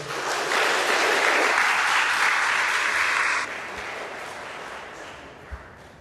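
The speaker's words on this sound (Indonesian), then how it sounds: "Tepuk tangan dong kalian semua." A crowd claps steadily and loudly for several seconds, then the applause thins and fades to a quieter patter.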